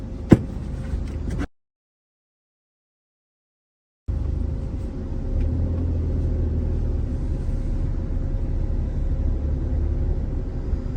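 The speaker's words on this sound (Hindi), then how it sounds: "कैबन नॉइस कोई इतना ख़ास नहीं है इस गाड़ी का" Steady low cabin hum inside a Suzuki Alto VXL automatic fitted with new tyres, heard while driving, with a brief stretch of near silence early on before the even rumble resumes.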